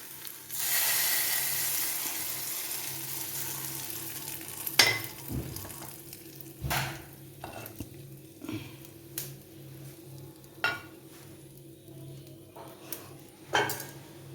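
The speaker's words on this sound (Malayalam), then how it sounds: "നമ്മുടെ വറവ് മൂത്ത് വന്നിട്ടുണ്ട് നമുക്ക് തീ ഓഫാക്കാം എന്നിട്ട് നമ്മുടെ കറിയിലേക്ക് ഒഴിക്കാം" A roasted coconut and spice tempering is poured into a vegetable curry, with ridge gourd and tomato, giving a short burst of hissing sizzle that fades into quieter bubbling, broken by a few sharp knocks of a pan or spoon.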